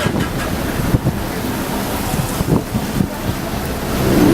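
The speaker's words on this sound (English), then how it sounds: "there's some water flow here" Water rushes over a storm-damaged bridge after a hurricane, a continuous broadband wash heavily buffeted by wind noise across the microphone.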